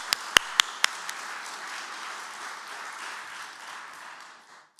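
At an honoree celebration, a few sharp, close claps ring out at the start. Soft, diffuse applause from the audience follows and fades toward the end, with no clear voices.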